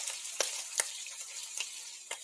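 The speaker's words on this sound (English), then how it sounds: "I better hear bacon sizzling like a motherfucker." Bacon sizzles in a pan as a soft, steady hiss with faint crackles and a few sharper pops scattered throughout.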